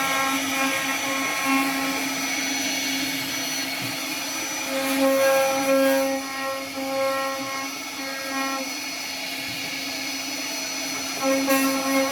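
A computer-controlled design machine runs with a steady mechanical hum and high whine, its tones shifting slightly as it works, continuous and fairly close with no talk.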